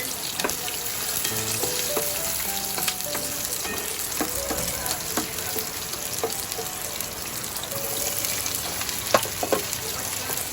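Garlic and onion sauté in hot oil with a continuous crackling sizzle, with intermittent clinks and scrapes of a spatula against the pan, close up and with no speech.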